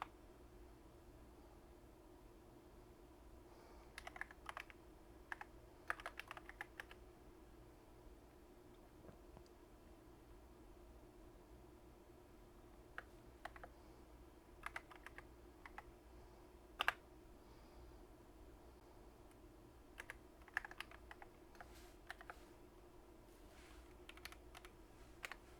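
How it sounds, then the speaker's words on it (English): A faulty computer keyboard that double-presses is typed on in scattered bursts of soft clicks, with pauses between runs of keystrokes, quiet over a steady low hum and no talking. "Keyboard's crapping out on me. It's been double pressing."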